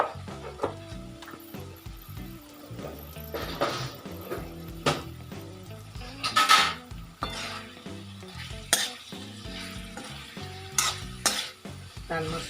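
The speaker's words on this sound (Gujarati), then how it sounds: "નાખીને આપણે હલાવી દઈએ." A spoon stirs red chili powder into carrot and capsicum sabzi frying in a pan, with steady sizzling under repeated scraping and clinking against the metal, close and moderately loud.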